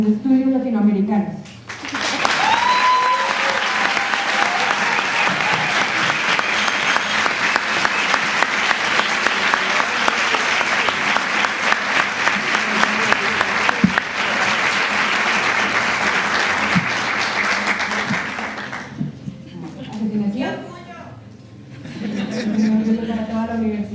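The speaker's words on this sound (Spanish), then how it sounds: "queremos pedir a todo el público un aplauso muy especial" Sustained audience applause at a university panel on Black feminism in Latin America, steady and full for about seventeen seconds before fading, with speech before and after.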